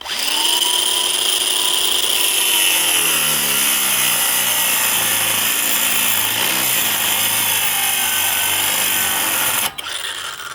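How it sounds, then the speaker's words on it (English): An angle grinder with a small cutoff wheel slices through hard steel on a wood splitter, a loud, steady high-pitched whine and grinding screech that runs unbroken for about ten seconds before cutting off abruptly near the end. "We're going to cut it out. A little cutoff wheel here."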